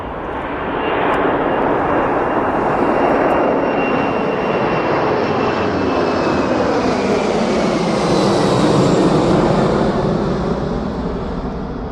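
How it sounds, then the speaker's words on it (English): Jumbo jet flying over near East Midlands Airport, a loud sustained roar of jet engines with a whining tone that slowly shifts in pitch as it passes, continuous for about twelve seconds. "Aha, it's a jumbo jet."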